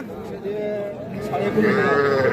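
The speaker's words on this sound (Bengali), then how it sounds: "এটা একটা বকনা বাছুর" Voices murmur in a crowded cattle market around a young heifer calf, with a brief low moo-like call rising near the end.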